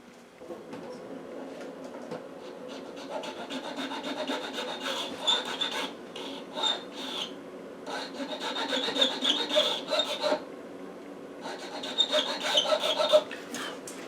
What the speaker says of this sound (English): I'm just going to take like a 20, 30, just a smaller file so I can start this in here